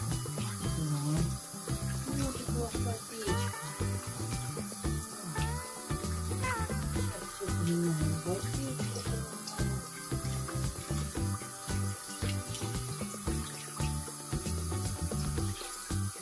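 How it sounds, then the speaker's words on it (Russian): Tap water runs steadily from a faucet into a sink while a water bowl for Welsh Corgi Cardigan puppies is filled, close and continuous, with faint talking underneath. "Я вам поставлю сейчас водичку."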